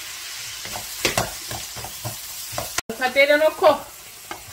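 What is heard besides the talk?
webfoot octopus stir-frying in scallion oil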